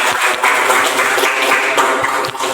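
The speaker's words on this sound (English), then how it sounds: "Give me a round of applause for them," Audience at a meetup applauding, a dense steady wash of many hands clapping close by for the full stretch, no talk over it.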